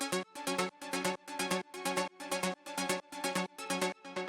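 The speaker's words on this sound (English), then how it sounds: "the next layer we've got here is this ARP, which sounds like this" A bright synth arpeggio in an acid-style techno track pulses in quick, evenly repeating note patterns, looping steadily and alone at moderate volume.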